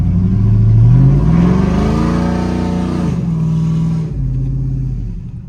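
A cammed truck engine revs hard and loud, rising in pitch then holding a throaty, lopey rumble before dropping back to a rough idle, close to the microphone with no talk.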